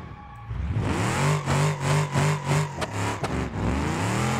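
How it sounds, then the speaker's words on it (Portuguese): A turbocharged van in BeamNG.drive revs and accelerates, its engine note rising and falling in repeated surges, close and loud. "Vamos lá, vanzinha, acelera."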